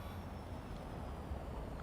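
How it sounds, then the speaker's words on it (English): Quiet cabin hum inside a Porsche Taycan Turbo GT in Real Racing 3, a low, steady electric drive rumble with faint road noise, continuous and subdued throughout. "Look how quiet it sounds in the car"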